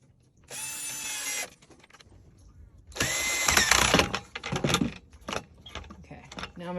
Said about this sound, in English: Now I'm going to finish screwing them in.